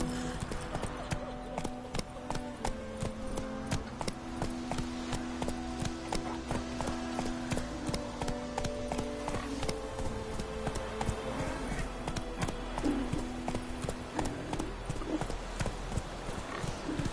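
Hooves of Roach, the horse in The Witcher 3 video game, pound in a fast steady clip-clop rhythm, close and continuous, over a low sustained game music bed.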